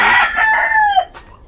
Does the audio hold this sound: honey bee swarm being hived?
no